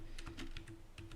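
Someone types quickly on a computer keyboard while writing a C program, producing a short run of close, crisp key clicks in an uneven rhythm.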